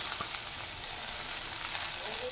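Garden beans, chopped green chillies and a little onion fry in a pan for bread polao, a steady close sizzle and hiss with faint stirring scrapes underneath.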